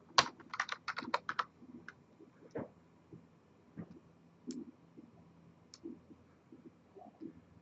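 A command being typed on a computer keyboard in a networking lab, with a quick flurry of close, crisp keystrokes followed by sparser single taps and clicks, no voices.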